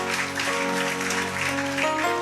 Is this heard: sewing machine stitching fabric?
no